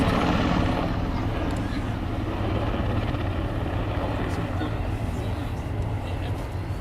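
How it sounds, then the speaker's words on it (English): Army Air Corps Apache attack helicopter at the 2012 Cosford airshow, a steady loud rotor and engine drone filling the whole stretch without letup. "one of the unique things about the Apache attack helicopter"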